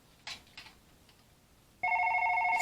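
A telephone rings with a steady electronic tone that starts abruptly after a couple of soft knocks, loud and close, continuing to the end.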